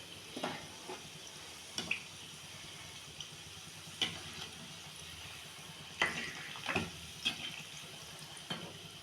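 Gulab jamun dough balls fry slowly in hot oil, giving a quiet, close sizzle broken by scattered soft pops and crackles at irregular intervals, with no talking.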